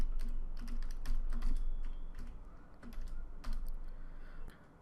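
Fingers type code on a computer keyboard in quick, uneven bursts of clicking keystrokes, close and clear against a quiet room, with no talking.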